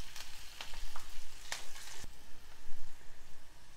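Curry leaves and a pinch of turmeric with slivered green chillies sizzling in hot oil for tamarind-leaf pulihora, a steady close crackle broken by a few sharp pops and spoon clicks.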